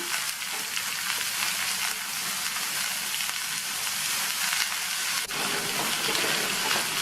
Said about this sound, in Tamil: அதை சேர்த்துட்டு இது கூட இதுக்கு தேவையான அளவு உப்பையும் சேர்த்து இந்த எண்ணெயிலேயே நல்லா வதக்கி விட்டுக்கணும்